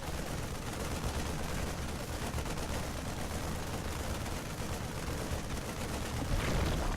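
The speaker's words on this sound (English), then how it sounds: "the Marines are just firing away, getting rid of this hatchery" Rapid, continuous gunfire from StarCraft II Marines pouring into a Zerg hatchery, a dense unbroken crackle of shots at steady loudness that swells slightly near the end, with no speech over it.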